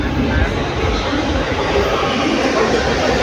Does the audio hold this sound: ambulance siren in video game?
no